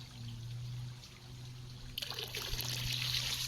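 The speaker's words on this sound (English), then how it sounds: "we'll take a look at the water going over the sill for the first time here" Water spills over the sill of an all-in-one pond waterfall and filter unit for koi ponds, a soft trickle over a low hum that swells abruptly into a brighter, steady splashing flow halfway through.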